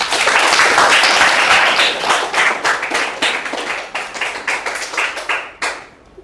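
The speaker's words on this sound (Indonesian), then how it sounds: "Tepuk tangan buat semuanya." A classroom of students claps together, loud and dense at first, then thinning into scattered individual claps before fading out.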